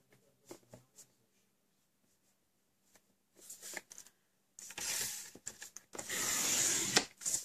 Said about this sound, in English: Your second cut then is 5 1/4.